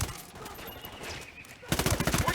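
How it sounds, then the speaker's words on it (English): Bursts of automatic gunfire from the video game Ghost Recon Wildlands, a muffled stretch giving way to a loud, rapid string of shots near the end. "I'm shooting these fuckers."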